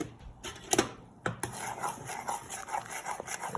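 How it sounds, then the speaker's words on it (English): A whisk scrapes and clinks against a pan while brown sugar and spices are stirred together, making quick irregular metallic taps and rubbing, fairly faint and close. "We're gonna whisk this all together until it reduces a little bit more."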